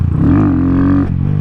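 A Grom motorcycle engine revs hard during a wheelie attempt, loud and close, its pitch climbing and holding steady for about a second before dropping back to a rough, pulsing idle.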